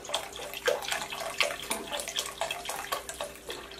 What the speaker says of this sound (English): we're going to add the remainder of the broth